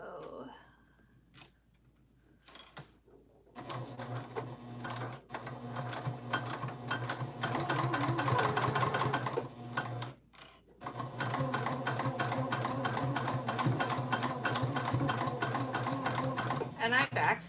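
Close sewing machine backstitching over a tote bag seam allowance, running in two long bursts separated by a brief pause, with clicking from the mechanism and a voice speaking at moments.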